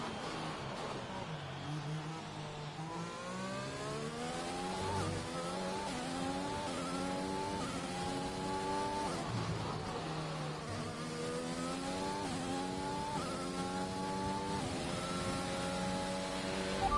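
A Formula 1 car engine on a fast lap in F1 2021, screaming steadily with repeated rising pitch sweeps through gear changes and brief dips under braking, continuous and close.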